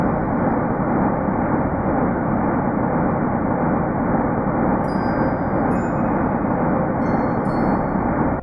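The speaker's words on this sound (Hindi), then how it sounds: "यह है ब्रह्मांड की आवाज।" Sonified rendering of the oldest sound of the early universe, from about 380,000 years after its birth, heard as a steady, dense, loud broadband roar with no pauses, plus a few faint high shimmering tones near the middle and end.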